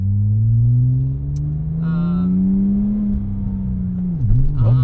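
A 575 HP Porsche 996 Turbo X50 engine drones loud and steady, its pitch rising slowly as it pulls, then dipping and wavering near the end with a brief higher whine.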